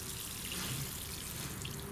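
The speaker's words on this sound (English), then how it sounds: "And now I'll just water it in." Water pours gently onto the soil of a freshly repotted Rhapis palm, a soft continuous trickle and splash close by, steady and quiet with no talking.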